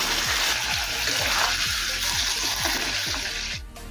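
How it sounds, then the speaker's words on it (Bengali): Hot water poured into masoor dal that has been fried for several minutes, a steady broad splashing rush with rhythmic gurgling pulses throughout, ending abruptly near the close. "এখন ডালের মধ্যে দেবো 1 কাপ পরিমাণে জল। এখানে আমি গরম জল ব্যবহার করছি।"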